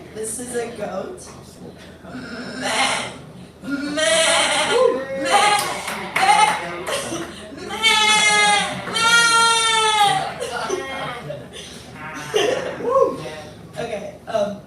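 At an open mic night, a person imitates a goat, giving a series of shaky, vibrating bleats in bursts, with audience voices and laughter mixed in between.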